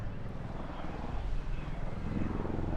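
A propeller aircraft at an English Riviera airshow with a fixed wheel undercarriage is flying a 270-degree turn, heard as a continuous distant engine drone with wind noise.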